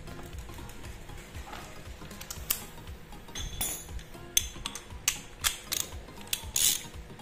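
A motorcycle oil drain plug on a Suzuki Smash 110/115 is tightened with a ratchet, giving a series of close, clicking turns that grow busier toward the end, with no talking.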